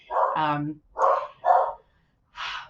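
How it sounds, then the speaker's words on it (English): Several sharp, close dog barks come in separate bursts with short pauses between, loud against a quiet background. "And Lindsay, as mentioned in the video, they will bark occasionally"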